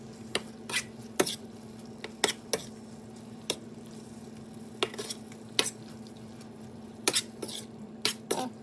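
Shrimp and grits simmer over low heat, a soft steady bubbling hiss under a low hum, broken by sharp clinks and scrapes of a utensil against the pan at irregular intervals.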